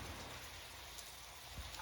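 Heavy rain falling at night, heard from a balcony as a faint, distant, steady hiss with no other sound standing out.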